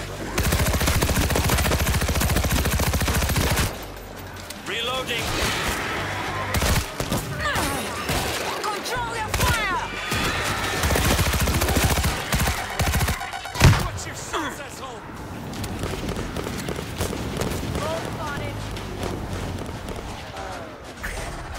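Sustained gunfire from multiple weapons in the zombie shooter World War Z: Aftermath, dense bursts and volleys rattling almost nonstop with occasional louder shots, with voices calling out over the din.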